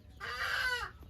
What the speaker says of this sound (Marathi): ए कोंबडी कशी वाटते?